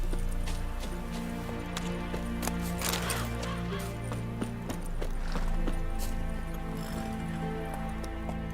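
Horse hooves clip-clop at a steady gallop in The Witcher 3, mid-loud and continuous beneath a layer of sustained in-game music.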